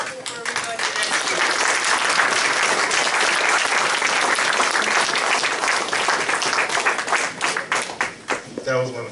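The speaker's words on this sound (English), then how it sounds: "give yourselves a round of applause" Audience at a community land trust fundraiser breaks into sustained, dense applause that stays loud and steady for most of the stretch, thinning into scattered claps near the end.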